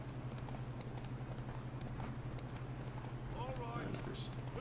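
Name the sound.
horse hooves galloping in video game The Witcher 3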